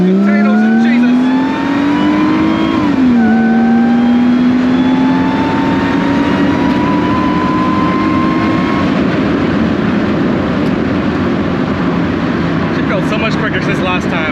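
A supercharged Mercedes SLK320 engine revs hard and climbs through the gears, its whine rising steadily, loud and close with a roaring background.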